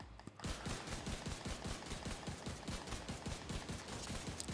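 Diamondback exotic lever-action rifle from The Division 2 firing a long, rapid string of sharp shots, about five per second, loud and close, each crack followed by a short low thump, with no talking.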